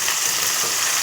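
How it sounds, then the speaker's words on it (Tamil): Onion and tomato sauté in a hot pan for a ginger dal kuzhambu, giving a steady, close, continuous sizzle and frying hiss with faint stirring and no voices. "வெங்காயம், தக்காளி அது ரெண்டுத்தையும் வந்து போட்டுட்டு நல்லா வதக்கி விட்டுருங்க"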